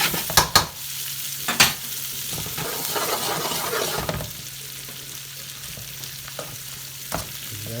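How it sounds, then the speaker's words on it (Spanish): Green beans and garlic fry in melting butter in a pan, giving a continuous close sizzle with a few sharp clanks of stirring near the start and occasional scrapes, and no one speaking. "Como la mantequilla se va a ir derritiendo."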